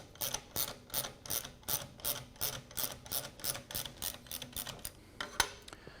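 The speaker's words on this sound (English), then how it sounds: "using our 24mm chamferless socket, we're going to remove the air cap from the fork." A socket ratchet with a 24mm chamferless socket loosens the air cap on a Rock Shox mountain bike fork, a close, crisp series of quick clicking bursts in a steady repeating rhythm.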